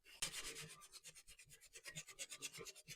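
Painted vintage metal canister being sanded by hand, with close, steady rasping strokes repeating in a quick back-and-forth rhythm for the whole stretch, no voices.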